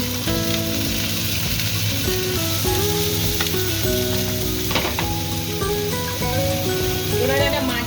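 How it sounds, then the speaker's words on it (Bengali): Onion and green chilli hit hot oil with fried ginger and garlic for a chicken patty filling. The result is a loud, steady sizzle and crackle, with sustained tonal sounds layered underneath. "আদা রসুনটা ভাজা ভাজা হয়ে গেছে আমি এর মধ্যে দিয়ে দেবো পেঁয়াজ আর কাঁচা লঙ্কা"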